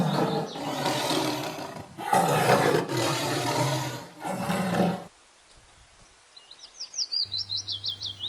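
A tiger roars loudly in several long, rough bursts, then falls silent before a light, repeated bird chirping.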